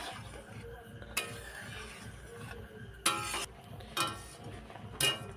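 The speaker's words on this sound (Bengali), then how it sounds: "একটু আস্তে করে খুন্তি দিয়ে নেড়ে দেবো।" A spatula gently stirs a low-oil cauliflower curry in a pan, scraping and clinking against the metal in a few distinct strokes over a soft, steady sizzle.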